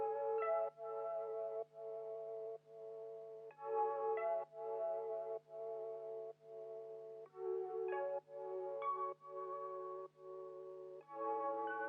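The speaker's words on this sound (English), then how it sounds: "The next I added another pad just to give it a little bit more of a texture" A synth pad layered into a vintage soul-style sample beat, sustained chords pulsing in repeated bar-length swells with short gaps between, faint and steady over a low constant hum.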